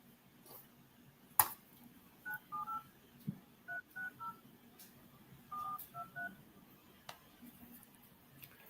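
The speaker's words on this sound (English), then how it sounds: "let me dial one more" Phone being dialed, a run of short DTMF keypad tones in quick irregular clusters, faint and close, with a few clicks and a quiet background.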